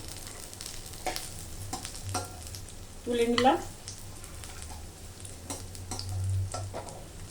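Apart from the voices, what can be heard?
stuffed kakrol (spiny gourd) frying crisp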